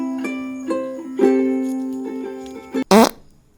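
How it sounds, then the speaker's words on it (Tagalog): A loud, buzzy fart bursts out near the end, brief and close, following a stretch of tonal music-like background sound with no one speaking. "Sino ang umutot?"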